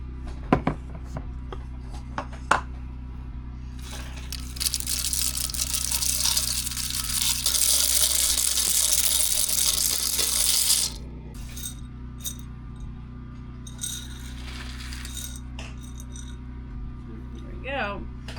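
Water poured into a one-liter Weck glass jar packed with beans, a steady splashing rush of several seconds between clinks and knocks of glass, with a few scattered handling sounds after the pour.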